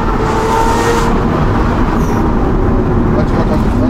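A Lamborghini Aventador SVJ fitted with a Gintani exhaust roars loudly from inside the car under acceleration, a dense, sustained engine howl that stays strong throughout, with speech partly mixed in.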